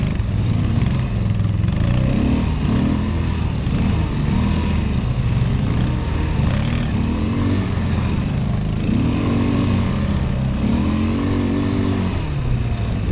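Loncin LX200ATV-U quad bike engine running steadily through a forest, a continuous close mid-pitched drone with rising and falling revs, loud and constant with no talk over it.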